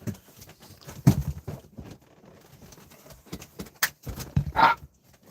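A German Shepherd dog barks indoors, giving a few loud, close bursts separated by quieter gaps, with one final sharp bark near the end.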